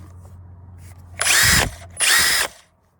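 A Metabo HPT KC 18DEX cordless drill spins up twice in quick succession, each a short, loud, close high-pitched whir lasting about half a second.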